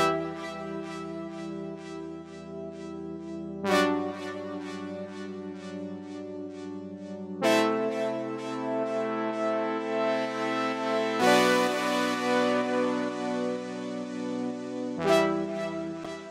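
Lush melodic techno chords from a layered synth and string pad change every few seconds, sustained and full, with a bright swell on each new chord.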